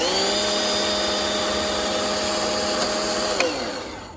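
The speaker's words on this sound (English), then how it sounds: "Why not give it a nice clean edge with the chainsaw?" An electric chainsaw cutting wood whines steadily up close, then its pitch drops as the motor winds down near the end.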